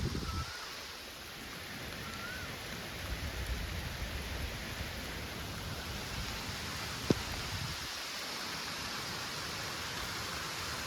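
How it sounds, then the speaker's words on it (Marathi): Steady rain pours down as a continuous, even hiss, with a single sharp click partway through. "पाऊस आला दोन दिवसानंतर"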